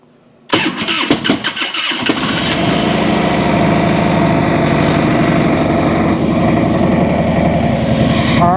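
A motorcycle engine, being checked in a spring tune-up, cranks with rapid stuttering bursts, catches after about two seconds and settles into a loud, steady idle close by.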